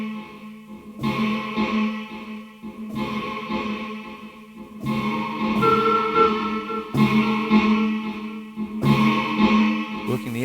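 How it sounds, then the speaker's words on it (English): An instrument plays through a heavy echo effect, with repeating notes and chords that ring and decay into each other in a steady, busy pulse, loud and close, with no talking. "Working the echo."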